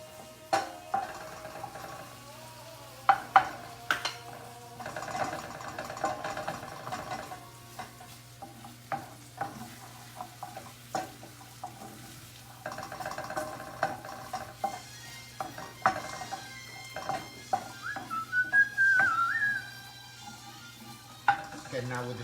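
Bacon, shallot and garlic sizzle steadily in a pan, with repeated clinks and scrapes of a utensil stirring against the cookware throughout, fairly quiet and close.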